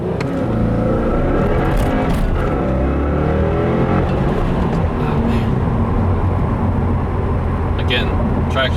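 A 2015 Subaru WRX on an E30 tune, driven uphill in a hard acceleration pull, its engine a loud, continuous roar close by for the whole run.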